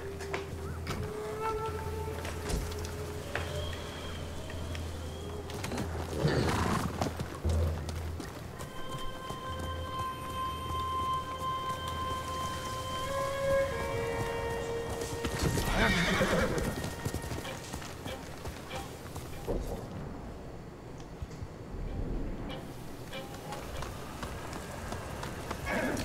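Hooves clip-clop at a steady pace while a horse neighs and whinnies several times over music and ambient game sounds in Ghost of Tsushima, with occasional faint speech.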